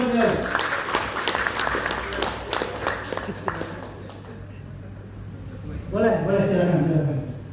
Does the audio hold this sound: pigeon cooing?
no